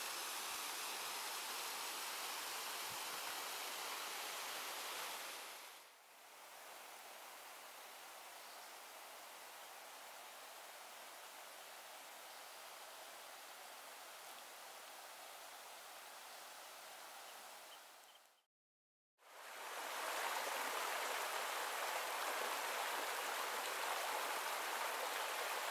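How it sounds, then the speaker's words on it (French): A small mountain stream on a hiking trail in Southern California gives a steady, close rush of flowing water that runs continuously, with two brief dropouts in the recording. "C'est un petit ruisseau qui descend de la montagne."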